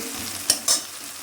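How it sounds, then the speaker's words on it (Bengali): Onion and ginger fry in a pan with a constant close sizzle, and two quick scraping stir strokes land about a fifth of a second apart. "2 মিনিট পর পেঁয়াজ আদা ভাজা হয়ে এসছে"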